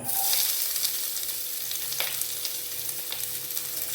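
Onion and curry leaves sauté in hot oil for a mutton curry, a steady close sizzle with light crackles and occasional stirring scrapes, no voices.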